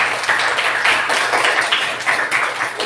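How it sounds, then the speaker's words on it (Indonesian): A classroom of students clapping together in a mathematics lesson, a brief burst of quick, uneven hand claps close by with no talking. "Tepuk tangan dulu."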